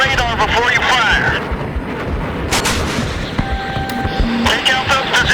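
Battlefield 3 jet combat against SAM positions, with heavy explosive blasts and rumbling fire amid aircraft noise, plus radio voices talking over the action.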